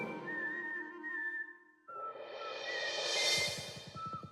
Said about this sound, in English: Just whistling a tune